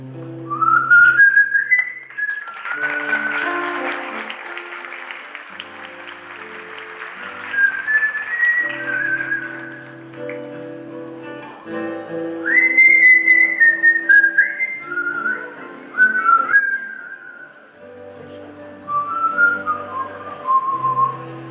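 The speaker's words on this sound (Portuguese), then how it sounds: "E assobiava pelas escadas." A person whistles a lively, wandering tune in bright, sliding phrases, pausing briefly between runs, with a soft background accompaniment underneath.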